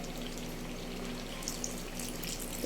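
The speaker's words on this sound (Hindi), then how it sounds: "थोड़ा पानी डालें।" Water is poured from a glass into a pan of cooking chicken kofta curry, giving a soft, steady splashing stream that continues evenly at low volume, with no voices over it.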